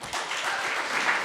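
Audience applause at a community film and talk panel, a dense, steady burst of many hands clapping that fills the room without a break.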